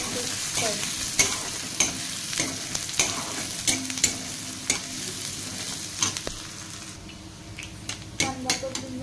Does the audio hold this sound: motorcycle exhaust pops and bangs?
no